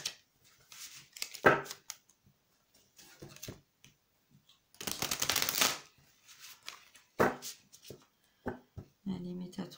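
Oracle cards shuffled by hand in a series of soft, close riffling bursts with short pauses between them, one longer dense flurry in the middle, and no talking.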